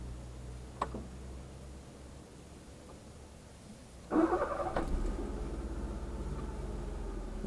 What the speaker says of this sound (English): Then you go start the car.